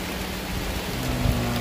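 Rain falling steadily at a cemetery, a dense even hiss of drops with a low rumble rising slightly toward the end.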